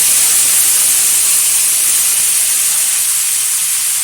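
Chopped bottle gourd hits hot tempering oil for dal, setting off a loud, steady, bright sizzle that hisses continuously without a break.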